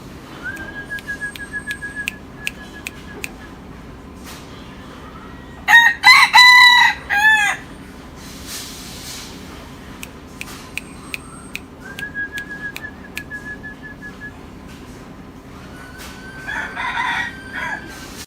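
A Thai native game rooster, almost a year old, crows loudly several times outdoors. Shrill whistles and clucking from other fowl come and go in the background.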